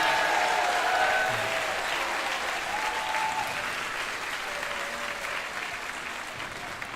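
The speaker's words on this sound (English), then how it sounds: "if you could all turn around and give DJ Galliano a round of applause up there in the booth." Sustained audience applause at a spring school concert with a senior farewell, honoring the DJ in the booth, a dense steady wash of clapping that fades slightly toward the end, with faint voices underneath.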